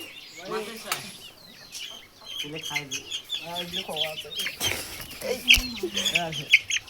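Brahma chickens clucking at a poultry farm, with repeated close clucks and short calls. People talk now and then between and over the calls.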